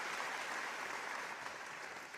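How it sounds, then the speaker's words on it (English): A large audience applauds steadily at a live broadcast event, a continuous wash of clapping hands at moderate distance with no voices standing out. "A round of applause for Shoki Aluko!"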